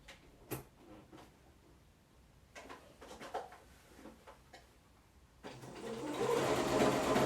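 A sewing machine stitches buttonholes into a fabric drawstring produce bag, with a few soft clicks and handling noises before the motor runs loud and steady, close by, for the final couple of seconds.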